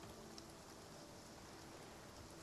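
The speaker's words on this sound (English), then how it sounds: "drops falling from the sky" Steady rain in the video game Spiritfarer, a soft continuous hiss of falling drops that stays even and unbroken throughout, quiet and without voices.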